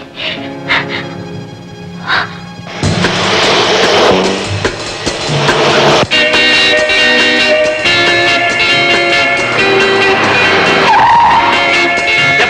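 A car in a Tamil feature film brakes hard with tires skidding, a long loud screech running under dramatic music and effects for several seconds.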